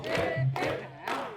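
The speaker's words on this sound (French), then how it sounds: "Applaudissement!" Crowd at a daytime gathering in Loudima breaks into loud cheering and shouting in short bursts, three swells over a second and a half, close and full.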